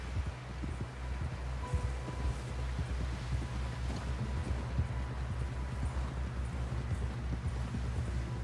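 A horse clip-clops at a rapid gallop in the video game Red Dead Redemption 2, rhythmic hoofbeats under a low rumble and wind-like rustle, fairly quiet and continuous with no talking.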